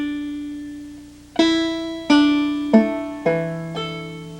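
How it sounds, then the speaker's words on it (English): Open banjo strings ring in modal tuning with a capo on, about five plucked notes struck one after another roughly every second, each sustaining bright and close before the next, with no voices. "That's the sound of the modal tuning."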